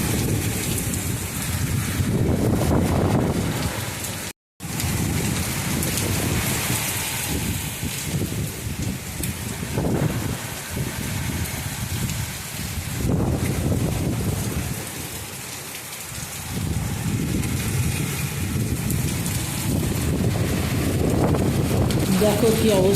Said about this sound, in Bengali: চলো একটু বৃষ্টির সাউন্ডটা উপভোগ করি